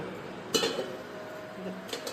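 A lid set onto a cooking pot of katla fish curry with taro, a bright metallic clink followed by a brief rattle, then a second lighter knock near the end over a low kitchen hum.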